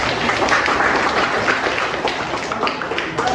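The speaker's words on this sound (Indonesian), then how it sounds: "Tepuk tangan dulu semua." A classroom of students clapping their hands together during an Indonesian school lesson, a dense and steady burst of close clapping that fills the short moment.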